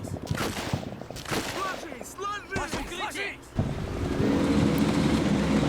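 Enemy gunfire cracks in a modern tank battle in a Combat Mission strategy game, with scattered bursts early on under a talking voice, then a steady rumbling battle din.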